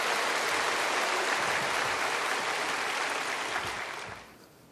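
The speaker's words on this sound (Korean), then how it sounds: "우리 나오실 때 장기호 형제 박수로 환영하십시다." Church congregation applauding to welcome a member coming forward for a testimony at a baptism service, a dense steady clapping that holds for about four seconds and then fades out.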